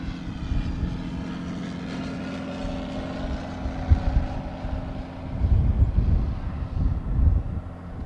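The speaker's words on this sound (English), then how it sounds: "you don't see too many Cessnas landing at Vancouver International Airport" A Cessna light aircraft lands at Vancouver International Airport, heard as a steady propeller-engine drone with wind rumble that swells slightly toward the end, fairly close and with no talk.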